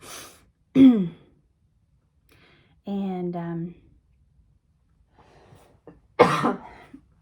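A man with heartburn clears his throat and coughs in a few short, close bursts separated by pauses, with one brief spoken word between them.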